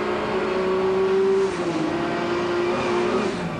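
Mark Skaife's Nissan GT-R racing down the home straight at Lakeside Raceway in the 1991 Australian Touring Car Championship, heard from the onboard camera: a loud, sustained engine howl that holds steady, then dips and climbs again through a gear change.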